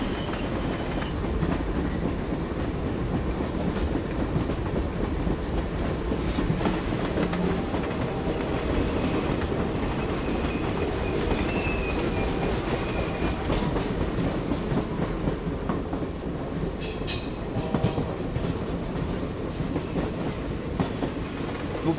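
A train rolls past on rails, a loud, close, continuous rumble with clickety-clack wheel rhythm and a brief metallic squeal near the end, with no voices.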